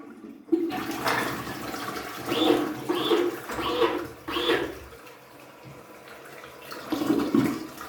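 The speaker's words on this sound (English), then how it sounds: "I'm going to turn the flush." A toilet fitted with a Prevent-A-Clog device flushes nearby, a rushing surge of water rising and falling in several pulses before draining off, with brief faint voices near the end.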